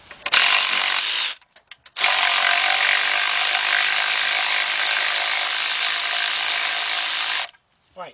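A cordless 3/8-inch drive ratchet with an 18mm shallow socket removes bolts during Chevy Cobalt timing chain and oil pan work, running in two loud continuous bursts: a brief one near the start, then a long steady whir of about five seconds.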